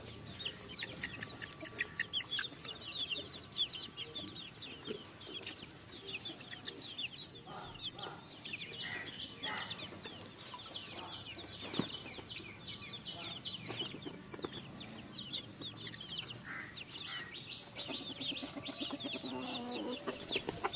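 Chickens on a farm peck at boiled fish while clucking steadily and softly, a busy chorus of short calls from several birds at close range, with no talk.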